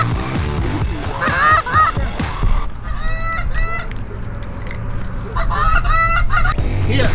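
Geese honk repeatedly during a goose hunt, several birds calling in overlapping bursts, loud and near, mixed with rustling, thumps and field noise, with brief voices in the background.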